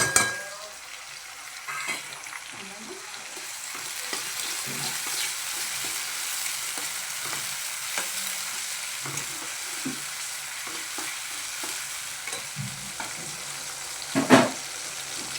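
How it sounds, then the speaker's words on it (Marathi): Tomatoes sizzle and fry in oil in a pan for pav bhaji, with a steady hiss under repeated scraping stirs and a sharp clink of utensil against the pan near the end. "आणि आता आपण टाकूया टमाटे टमाटे"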